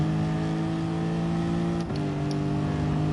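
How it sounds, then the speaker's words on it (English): A car engine in the racing video game Gran Turismo holds a loud, steady high rev, then dips at a gear shift and climbs back to a sustained drone. "It looks like you rev it out."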